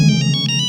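A mobile phone ringtone plays nearby: a short run of bright electronic tone pulses, about five beeps in quick succession over a low steady hum, with no talking.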